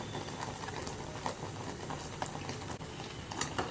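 Thick sugar syrup for kamerkat bubbling and popping steadily in a pot, a dense crackling simmer with scattered louder pops.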